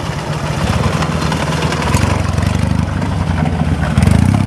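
A red Soviet-made motorcycle with an engine fault runs loud and close, a rough, uneven idle with irregular pulsing that swells into a brief rev at the end.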